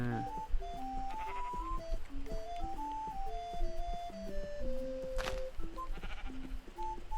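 A Minecraft sheep bleats briefly amid the game's gentle piano music, with a short bright burst midway and no talking.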